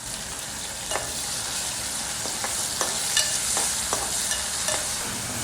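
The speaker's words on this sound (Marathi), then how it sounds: "त्याला वाटण टाकू आपण, मस्त ब्राऊन झाले आपला कांदा." Ground masala paste sizzles and fries in a pan with browned onions, a steady close hiss with occasional scrapes and stirring clicks, no talking.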